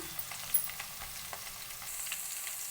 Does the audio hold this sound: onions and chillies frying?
yes